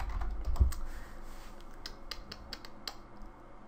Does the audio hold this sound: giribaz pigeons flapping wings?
no